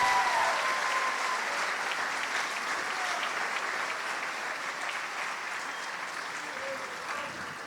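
Sustained applause from an audience at a senior awards ceremony honoring winners, a steady dense patter of many hands that holds evenly throughout and fades slightly toward the end.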